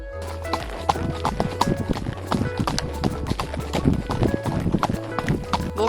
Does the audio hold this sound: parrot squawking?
no